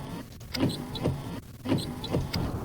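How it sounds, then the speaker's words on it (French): Windscreen wipers on a car in the driving game My Summer Car run with an electric motor, making repeated rhythmic sweeping strokes that rise and fall at close range. "Les essuie-glaces."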